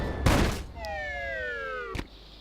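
A cannon fires in the Secret of Monkey Island adventure game, one sharp blast, then a descending whistling tone as something flies off, ending with a second short thud.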